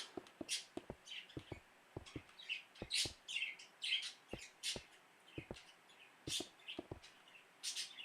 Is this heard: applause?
no